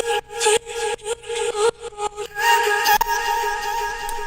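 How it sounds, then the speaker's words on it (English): A vocal chop sample from a Splice pack plays as a choppy melodic line of short, pitched sung syllables in a rhythmic stutter, then holds a longer sustained tone in the second half, clean and upfront. "which is actually just a vocal chop that sounds like this."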